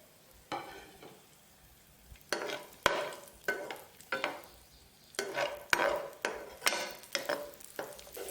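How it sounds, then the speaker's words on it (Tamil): Raisins frying in a pan while being stirred, with repeated scraping and stirring bursts over a soft background sizzle, close and moderately loud, no talking. "இப்போ திராட்சை போட்டு வறுத்துக்கலாம்."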